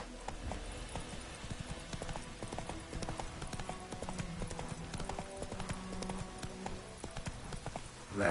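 A horse gallops in The Witcher 3: Wild Hunt, its hooves giving a fast, steady clip-clop throughout, quiet and mixed with soft game ambience.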